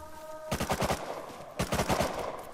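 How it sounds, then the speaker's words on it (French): In the Rust survival game, two rapid bursts of automatic gunfire sound at mid distance, each a quick rattling string of shots with a short pause between them. "Ça tire, on va se dépêcher"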